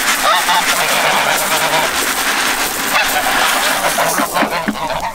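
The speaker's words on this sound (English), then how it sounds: "Come on, chickens. ducks, geese, emus." On a farm, a flock of geese and ducks honks and quacks loudly and continuously, many birds calling over one another at close range.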